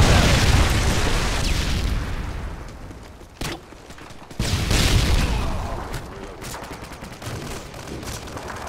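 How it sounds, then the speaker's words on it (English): A Predator missile strikes in Call of Duty: Modern Warfare 2 on the Karachi map, a loud, booming blast that rolls and decays amid scattered gunfire, followed by a second heavy burst of battle noise. "Friendly Predator missile inbound."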